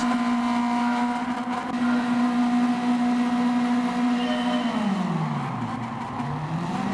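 A race car in Gran Turismo 7 held on the handbrake at the start, its engine revving steadily high and loud before the pitch drops away and rises again as it launches.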